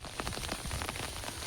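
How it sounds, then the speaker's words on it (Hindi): Heavy rain pours steadily onto surfaces nearby, a dense continuous hiss broken by irregular patters and drips, with no voices. "वर्षा जोर रे होची।"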